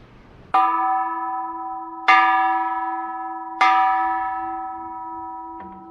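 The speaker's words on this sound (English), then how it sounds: "Ring the bell." A large temple bell at Khao Hua Jook pagoda on Koh Samui is struck three times at an even pace, each strike ringing out loud with a long, sustained metallic hum that fades slowly, followed by a softer fourth touch.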